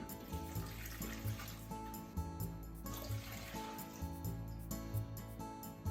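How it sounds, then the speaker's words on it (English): Four cups of water pour into a soup pot holding the top part of a Japanese leek, a steady, soft splashing stream that runs throughout with faint background tones. "put 4 cups of water"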